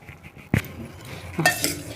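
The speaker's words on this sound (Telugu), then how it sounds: "ఇప్పుడు నేను ఈ ఇత్తడి గిన్నెలోకి ఇది ఇలా వేసేసానండి ఇంకో గరిటితోటి కలుపుతున్నాను" A ladle stirs in a brass bowl, making a sharp metallic clink, then a second scraping clatter close by.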